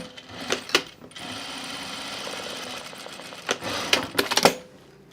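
A sewing machine stitching the pocket opening of a Sophie dress, running in short loud bursts with brief pauses between runs of stitches.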